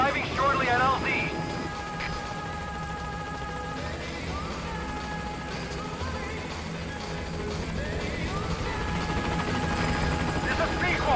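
Helicopter arriving at a landing zone in the video game Metal Gear Solid V, a steady rotor drone beneath game music and tones, while people talk over it.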